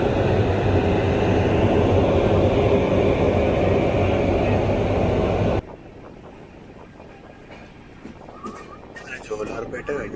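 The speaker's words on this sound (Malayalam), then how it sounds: "ഏതോ ഒരു ട്രെയിൻ ഉണ്ട് ഇവിടെ, റോയപുരത്തിൻ്റെ 370-18 എന്ന ലോക്കോ" A train hauled by a Royapuram-shed locomotive rumbles loudly and steadily at Jolarpettai station, then the roar cuts off abruptly and quieter ambience with faint voices follows.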